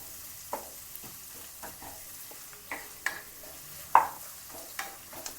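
Onions softening in hot oil for an aloo palya, a soft background sizzle broken by a series of scraping stirs, with one sharper stir standing out midway.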